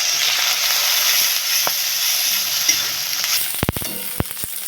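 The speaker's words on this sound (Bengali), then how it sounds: "এবারে দিয়ে দেবো যে আদা রসুনের পেস্টটা করে রেখেছিলাম সেটা।" Ginger garlic paste frying in hot oil in a pan, a loud, continuous close sizzle, followed near the end by a few sharp clinks of a spoon stirring against the pan.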